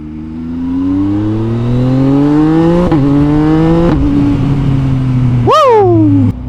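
A Yamaha MT09 motorcycle revs loudly up close, pitch climbing in long pulls, dropping between, then one sharp blip near the end before settling back to a throaty idle.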